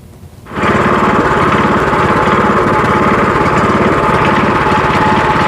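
A walk-behind farm cultivator's small engine starts after a short quiet moment and then runs loud and close, with a steady, rough, buzzing drone that lasts to the end.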